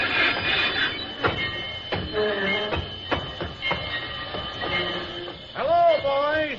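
An old train slows toward a stop, with rumbling cars, clanks and squealing wheels through the middle and a wavering high screech near the end, loud and close.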